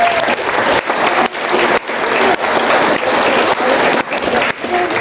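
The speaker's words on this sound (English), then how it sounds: "they probably deserve a round of applause for that" Guests at a wedding reception give a loud, sustained round of applause during the speeches, dense clapping from a close crowd filling the room with brief dips.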